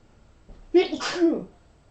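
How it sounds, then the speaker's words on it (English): A single close sneeze, a quick inhale followed by a sharp voiced burst, with quiet surroundings before and after. "Excuse me, I'm going to sneeze."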